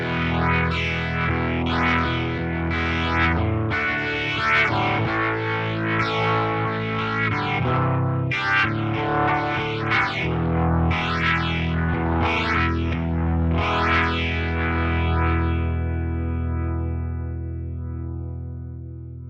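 Electric guitar through a Fender Tone Master Pro modulation effect on its slow setting strums sustained chords with a slow, swirling pulse, loud and close, ending in a fading ring.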